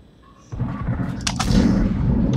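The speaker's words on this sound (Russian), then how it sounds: "я нечаянно выстрелил" A sudden heavy tank cannon blast in World of Tanks erupts after a quiet moment, followed by a rumbling, crackling roar that stays loud to the end.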